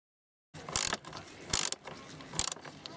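Screws are driven back into the air filter cover of a 2007 Citroën C4 1.6 HDi, three short close ratcheting bursts of clicking at roughly even intervals, no talking.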